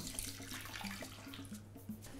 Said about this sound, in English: we just pour all that amazing juice into the bowl